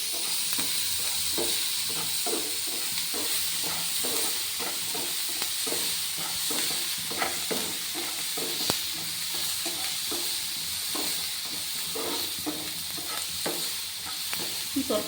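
Onions frying with salt in a pan for a homestyle dried-fish chutney, giving a steady close sizzle and hiss with repeated scraping stirs throughout.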